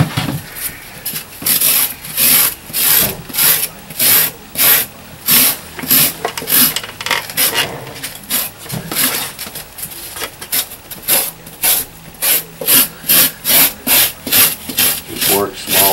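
Rhythmic rasping strokes of a cheese grater tool scraping material on an HO scale model railroad layout, steady back-and-forth bursts repeating close up for the whole stretch, with no talk over them.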